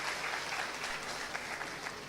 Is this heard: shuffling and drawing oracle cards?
no